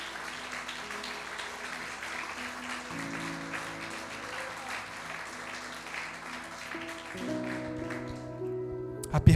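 Church congregation applauds the Lord, a sustained crowd of clapping hands under low sustained keyboard or organ chords, with the music swelling louder near the end.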